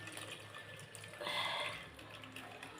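A little water is poured into a chili mixture for a kukkuda chili dish, a soft, steady close pour that swells for about a second over quiet kitchen background hiss.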